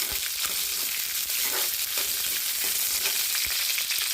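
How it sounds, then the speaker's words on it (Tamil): Curry leaves, dried red chillies and crushed garlic sauté in a hot pan, giving a loud, steady sizzle with a few soft stirring scrapes throughout and no talking. "கருவேப்பிலை போட்டுக்கலாம் காஞ்சி மிளகாய் போட்டுக்கலாம் பூண்டு தட்டி போட்டுக்கலாம் நல்லா வதக்கிக்கலாம்"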